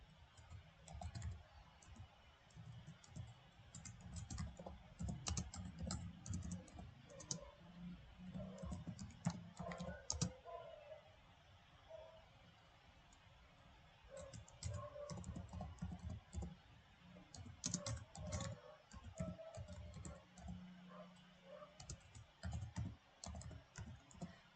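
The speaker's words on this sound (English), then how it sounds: "So now I type my feedback." Someone types on a computer keyboard with rapid, irregular clicking in quiet, close bursts, broken by a few short pauses, with faint room hum underneath.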